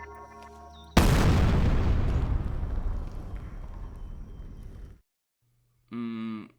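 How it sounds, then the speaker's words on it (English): A live bomb buried in the ground exploding in the 2016 game INFRA: one sudden, loud, close boom that rumbles and slowly decays over several seconds, then silence, followed by a short vocal grunt. "take a look at this live bomb in the ground, just ready to go off"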